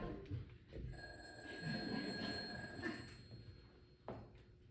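A telephone rings during a community theatre stage play, with bursts of bright ringing carrying through the room amid faint stage noise and no talk.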